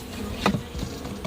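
Honey bees buzz around an opened bee box on a Jamaican bee farm, a close, dense hum with one sharper buzz as a bee passes near.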